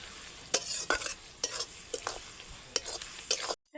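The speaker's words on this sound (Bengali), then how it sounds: "এইবার 2 থেকে 3 মিনিট মতন পেঁয়াজটাকে ভাজা ভাজা করে নেব।" Chopped onions with salt sizzle in a pan as a spatula stirs them in several sharp, distinct scraping strokes, close and fairly loud, before the sound cuts off abruptly.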